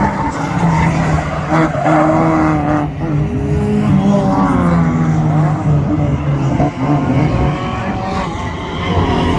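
Banger racing cars in caravan racing at Crimond Raceway roar and skid, tyres squealing in long bending wails over a constant engine drone, with thuds of impacts breaking through the loud, continuous din.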